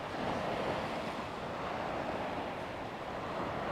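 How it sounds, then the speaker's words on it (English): Sea waves of the Bristol Channel washing against a wall as the tide rises, a steady broadband wash of surf with wind noise, continuous and fairly close. "the tide's going to come up over the wall"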